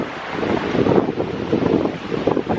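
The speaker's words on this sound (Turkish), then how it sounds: "Çok güzel esiyor, serin." A cool breeze on the Romanian Black Sea coast buffets the microphone with a steady, close, rumbling wind roar that swells and eases, with a faint wash of surf beneath.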